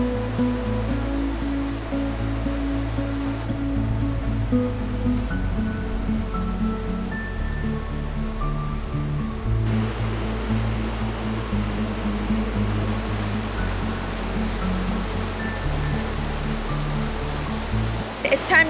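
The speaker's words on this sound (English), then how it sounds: "it's just so special to sit here and listen to the water rush and the wind go through the trees" At a desert oasis in California, water rushes steadily while wind moves through palm trees, a constant broadband wash that is fairly loud and close, without talk.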